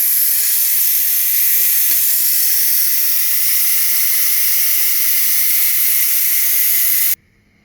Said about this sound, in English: release the pressure. It's going to get loud.